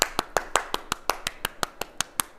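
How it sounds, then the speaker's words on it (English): Roughly a dozen sharp, evenly spaced hand claps from a single person at close range, a crisp, steady rhythm with clean silences between strikes. "round of applause"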